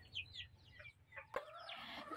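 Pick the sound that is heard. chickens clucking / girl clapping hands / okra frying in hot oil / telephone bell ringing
chickens clucking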